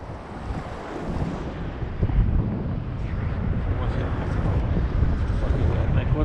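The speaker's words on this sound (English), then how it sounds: "the wind's just starting to pick up" Wind buffets the microphone and waves wash around a sea kayak as the breeze starts picking up, a rough, continuous rush that grows louder toward the end.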